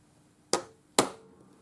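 Two sharp metallic taps of a chasing hammer striking a putty knife edge to mark a line on metal for pearl cup earrings, evenly spaced about half a second apart, close and crisp with short ringing decay.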